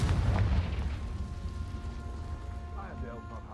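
A Confringo blast spell explosion in Hogwarts Legacy, one heavy boom at the start that fades into a rumbling tail, with a voice speaking faintly under the decay.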